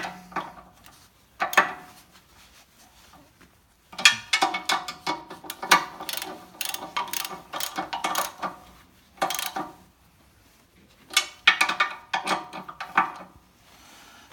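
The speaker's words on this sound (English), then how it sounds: "Now I'm going to tighten all 5 blades up, just a good snug" Hand tool snugging the five blade bolts on a SKARPER C90 PRO chipper, a series of quiet clicking, ratcheting bursts separated by pauses, close and clear with no talking.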